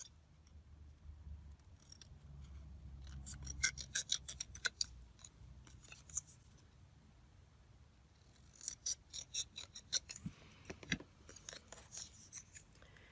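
Scissors trimming a scrapbook paper tag make close, crisp snipping and slicing cuts in two clusters of rapid clicks, separated by quieter handling rustle, with no talking.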